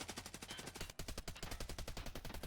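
Rapid automatic gunfire in the shooter game Escape from Tarkov Arena, a loud, sustained burst of evenly spaced shots with a single brief break partway through.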